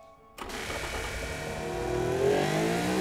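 After a brief quiet start, a supercar engine in the game Automation revs up toward 9,500 rpm with a rising whine, climbing steadily in pitch and loudness, smooth and synthetic-sounding.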